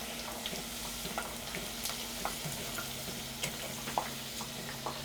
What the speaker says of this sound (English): Now that most of the water has boiled off, the potatoes will start to crisp.